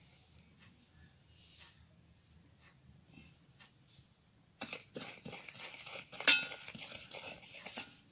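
Homemade olive oil skin scrub being mixed in a bowl with a spoon, a quiet stretch giving way to clinks and scrapes against the bowl, with one sharper knock partway through.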